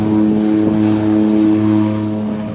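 A Twin Otter propeller plane takes off, its loud, close, steady droning hum holding even throughout with strong tonal propeller harmonics.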